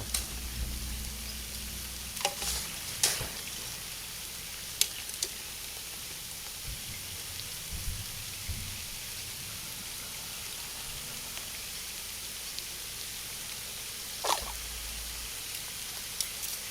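Rain falls steadily at a sand fishing pond, a constant soft hiss of drops with a few sharper ticks and taps scattered through, no voices.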